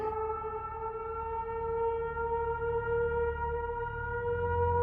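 A French civil defense siren sounds its monthly first-Wednesday test, a steady, sustained wail heard from a distance, continuous and unchanging throughout with a low background rumble beneath.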